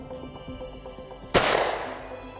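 Shotgun fired at a clay target on an outdoor range, a single loud close blast with a ringing decay, after a quieter stretch of low background noise.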